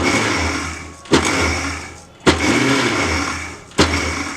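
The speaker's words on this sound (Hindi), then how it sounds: "तो देखिए, मैं मिक्सी को इस तरह से चला रही हूँ।" A mixer grinder grinding cashews into powder whirs loudly in three bursts, each starting with a sharp jolt, running steadily with brief pauses between.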